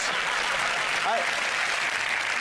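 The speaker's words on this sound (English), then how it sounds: "Oh, don't applaud it." Studio audience on a TV comedy panel show applauds, producing a continuous, even roar of clapping hands, with a brief voice heard faintly within it.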